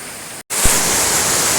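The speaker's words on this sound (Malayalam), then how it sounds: "ഇതിപ്പോൾ വെള്ളച്ചാട്ടത്തിൻ്റെ ഏറ്റവും താഴെ ഭാഗമാണ്" A dense, roaring rush of water falling over rock tiers at the base of Urulikkund waterfall in Kannur, loud and constant, broken only by a split-second dropout near the start.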